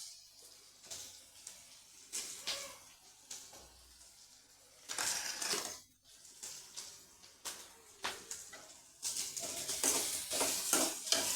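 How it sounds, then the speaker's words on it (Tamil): Pirandai (adamant creeper) sautéing in sesame oil in a pan for a chutney, with soft sizzling and intermittent stirring scrapes that swell in louder bursts, no talking. "நல்ல எண்ணெயிலே வதங்கட்டும் ஃப்ரெண்ட்ஸ்."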